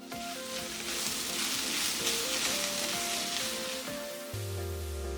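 Egg and green onion stir-frying in a pan, seasoned with soup soy sauce, giving a steady close sizzle that runs throughout and stops near the end as music continues.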